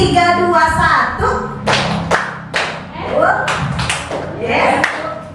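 A kindergarten class claps a rhythm pattern of three, two, then one, with sharp bursts of hand claps in quick groups while a voice talks between them nearby.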